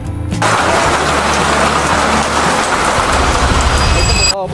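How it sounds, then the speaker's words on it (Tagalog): A heavy downpour catches a minivan on a delivery trip, and the rain roars as a dense, loud, unbroken wash almost from start to finish. "nabutan kami ng malakas na ulan"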